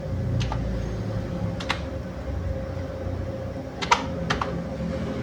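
Typing on a computer keyboard while filling in a job application form, heard as scattered clusters of sharp, close key clicks with pauses between bursts.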